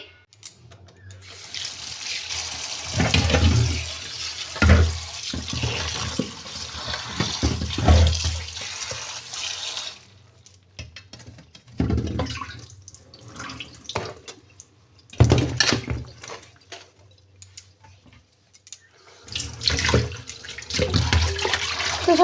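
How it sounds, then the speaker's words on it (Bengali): Vegetables are washed in water indoors, with bursts of running and splashing water broken by quiet pauses, and handling sounds between the pours. "এখন সবজিগুলো এই ঘরে ধুইব"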